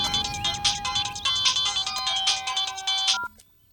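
A mobile phone ringtone plays a bright, repeating electronic melody in steady bursts, close and clear, then stops abruptly after about three seconds.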